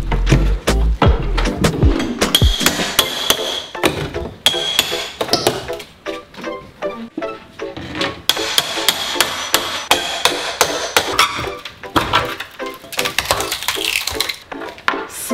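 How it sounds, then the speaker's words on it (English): Wooden door trim being pried and hammered off a doorway during a kitchen renovation: dense, loud runs of sharp hammer strikes and cracking, splintering wood, nearly continuous with brief pauses. "I moved on to the second doorway and continued removing the trim"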